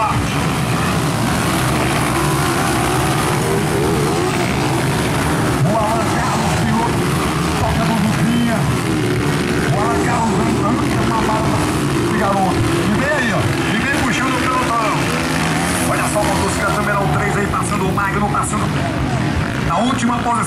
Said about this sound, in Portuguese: motocicleta 32, é o Alan Carlos